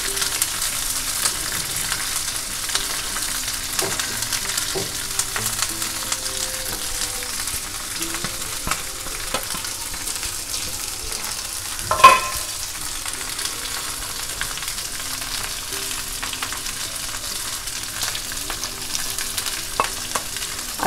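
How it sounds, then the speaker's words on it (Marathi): Stuffed okra (bharli bhendi) frying in a pan gives a steady, low, even sizzle throughout, with faint occasional clinks and one brief louder knock partway through, and no talking. "नंतर 2 मिनटं झाली ना की परतवायचं आणि सगळ्या 4ही बाजूने चांगलं भाजून घ्यायचा तो"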